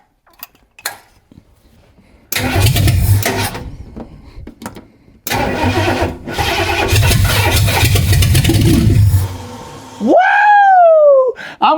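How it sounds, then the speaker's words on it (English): A car engine is cranked and fired after a starter solenoid repair, with a couple of short clicks, then two bursts of cranking and rough running, followed by a brief revving whine near the end. "We got a good starter solenoid, so now we can now start the car from here"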